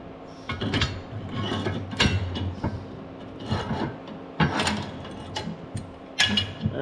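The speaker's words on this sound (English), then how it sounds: "Now let's see if I can get my big clamps put on there." Big clamps go onto a steel hitch being modified on a Case 490 disk, with close metallic scraping, grinding turns and sharp clanks at irregular intervals over a low background hum.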